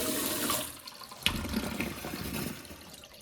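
Water runs steadily into a basement sump pit through perforated drain pipes, a close, continuous rushing and trickling with a brief splash partway through.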